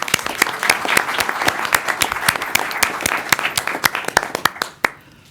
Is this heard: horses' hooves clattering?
no